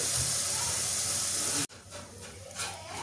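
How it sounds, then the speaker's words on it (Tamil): Spices and ground pepper sautéing in oil in a pan while cooking a Tamil lunch dish with fried brinjal, a loud steady sizzling hiss that cuts off abruptly midway, then a quieter crackling sizzle resumes with faint background sounds. "1/4 கரண்டி மிளகுத்தூள் எல்லாம் போட்டு நல்லா வதக்குவோம்"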